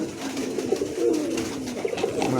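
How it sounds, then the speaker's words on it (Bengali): Pigeons cooing up close, soft repeated throaty coos rolling in a steady low rhythm, with faint background noise and no talk. "মার্শাল্লাহ, দেখার মতন কবুতর"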